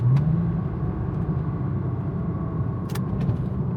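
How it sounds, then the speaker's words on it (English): A car downshifts while driving to a Cars & Coffee meet at Lake Washington, giving a close, steady engine rumble and road drone with a brief rising rev at the start. "Let me just downshift here."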